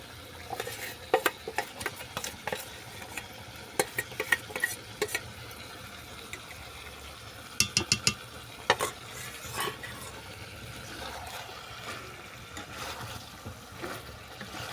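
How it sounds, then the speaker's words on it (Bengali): Chicken curry with kohlrabi, salt, turmeric and cashew-poppy seed paste being stirred in a pan, with repeated close scraping clatters of the spoon over a soft sizzle, no one speaking. "আবারও ভালো করে নেড়ে ছেড়ে মিশিয়ে নেবো"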